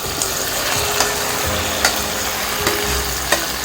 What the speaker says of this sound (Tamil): ஆனோடனே தக்காளியை போட்டு வதக்கணும்